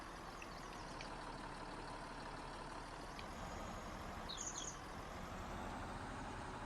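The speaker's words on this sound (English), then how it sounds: "It's a big tractor." A big tractor's engine in the Farming Simulator 19 farming game runs at a low, steady idle-like rumble, constant and fairly quiet, with a few faint higher clicks and squeaks over it and no talk.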